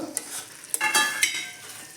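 Potato and brinjal pieces sizzle together in a pan for a potato-brinjal curry, with a steady close fry broken by a few sharp scraping stirs and no voices.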